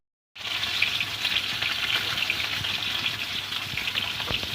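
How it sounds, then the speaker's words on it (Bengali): Bhetki fish pieces frying in hot oil in a wok, a loud, steady hiss and crackle starting abruptly and continuing alone without pause. "কড়াতে আমি তেল দিয়ে দিলাম, গরম হয়ে গেছে, মাছগুলো দিয়ে দিলাম"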